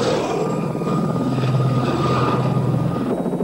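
Helicopter from the film Blue Thunder flying, a steady loud rotor and turbine roar holding constant and close throughout, with no voices.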